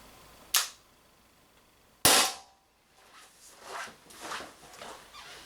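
An Umarex HDR50 air pistol fires steel balls, two sharp close shots a little over a second apart, followed by faint rustling handling noise.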